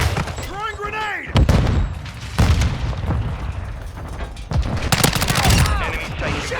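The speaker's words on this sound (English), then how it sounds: "Throwing grenade!" Video-game firefight on the Shipment map: grenade blasts and rapid bursts of automatic gunfire, loud and close, layered under radio-style voice callouts.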